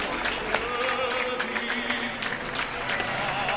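Applause for essential workers during the coronavirus lockdown in Málaga, heard as a steady wash of distant clapping from many people, moderately faint and continuous.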